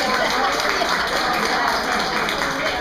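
Sustained audience applause in a lecture hall during a class on justice in ancient Greece, a dense, even wash of many hands clapping at steady loudness throughout.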